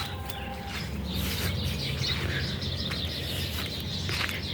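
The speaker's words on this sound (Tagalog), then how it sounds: "Maganda dito sa bukid kasi ang marinig mo yung ingay ng ibon" Birds chirp and call continuously in a busy outdoor farm setting, layered over a steady low background rumble.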